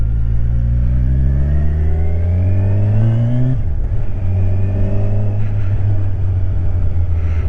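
A Kawasaki Ninja 1000 SX sport motorcycle engine revs up steadily from idle at traffic lights, pitch climbing through a gear, then drops and pulls again, loud and close throughout.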